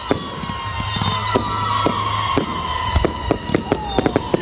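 Fireworks crack and pop in a rapid, thickening series of sharp bangs over Loch Sport, with whistling trails rising behind the bursts, close and loud.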